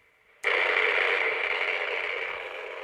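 A ghost-hunting spirit box switches on abruptly and pours out a loud, steady hiss of radio white noise that sweeps on and fades slightly over a few seconds, with no voices.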